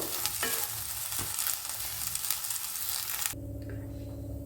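Okra sizzles loudly in a hot pan with some stirring, then the frying stops abruptly, leaving a low steady hum.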